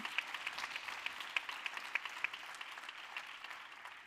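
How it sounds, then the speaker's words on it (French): Faint audience applause at a documentary screening and panel, soft scattered clapping heard from a distance. "allez-y, vous pouvez l'applaudir, elle le mérite"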